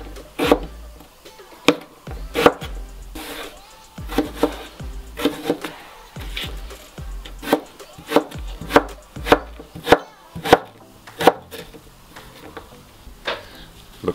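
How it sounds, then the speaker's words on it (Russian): Knife chopping vegetables for a winter salad on a cutting board, a steady series of sharp, close thuds and clicks with short pauses between bursts, no talking. "нарезать остальные овощи."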